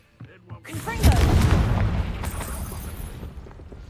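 A Confringo blasting spell in Hogwarts Legacy lands as one loud, close boom after a short crackle, its heavy rumble slowly fading over about three seconds.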